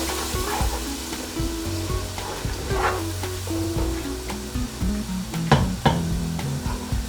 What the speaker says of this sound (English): It's been about 2 minutes or so with these onions cooking in the oil and with the spices.